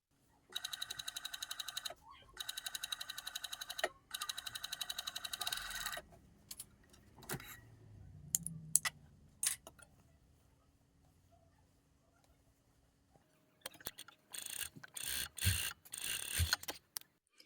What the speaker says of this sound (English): Since I'm gonna use the cover stitch, I'm just gonna sew our neckline.